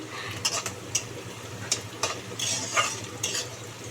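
Onion browning in hot oil for a chicken fry and mutton curry crackles and spatters close by, with sharp pops and stirring scrapes over a steady sizzle.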